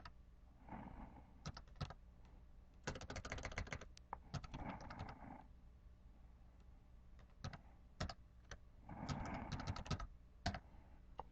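Keys clatter on a computer keyboard as a password is entered, several quick bursts of close, quiet typing separated by pauses in a calm room.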